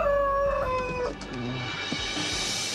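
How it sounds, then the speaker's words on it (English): Chickens on a farm, a drawn-out crowing call at the start followed by softer clucks over a steady low background noise. "I hate this chicken so much."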